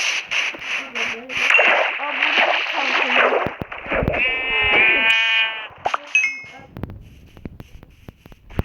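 A sheep in Minecraft bleats in a wavering cry, with splashing and people talking over the sounds around it.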